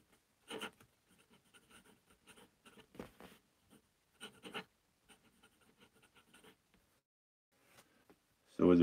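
An oblique double broad fountain pen nib scratches across paper in soft, intermittent strokes, faint and close, with pauses between marks and a louder thump at the end.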